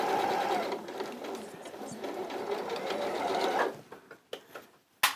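A sewing machine runs in a steady fast whirr while sewing long basting stitches, then slows into a few short stop-start bursts before halting; a voice talks faintly over the machine.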